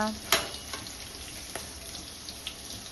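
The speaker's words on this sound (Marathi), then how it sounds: "मीडियम फ्लेमवर आपण हे पकोडे तळून घेऊया" Pakodas deep frying in oil on a medium flame, a continuous soft sizzle broken by a few sharp crackles and pops, close and moderately loud, with no talking.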